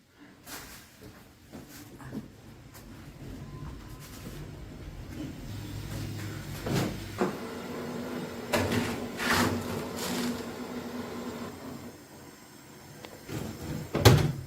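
An oven door opens and closes as food goes inside, with scattered soft clunks and rattles over a low room hum, ending in a louder knock.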